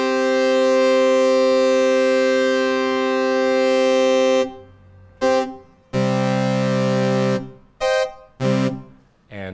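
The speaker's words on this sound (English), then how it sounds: "So I'll put it back at 60 and then sweep it while I'm playing some notes here." Bright, buzzy synthesizer notes with a waveform width sweep: a long held tone gives way to short, separated notes with gaps between them, each rich in harmonics.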